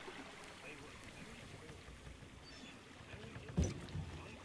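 A swan-shaped pedal boat glides across the water on an amusement park ride in the horror game The Park, with a soft steady lapping wash, faint and close, and a brief knock near the end.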